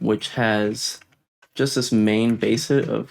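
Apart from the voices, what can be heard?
No everyday noises stand out.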